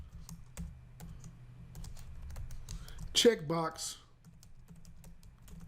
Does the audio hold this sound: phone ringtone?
no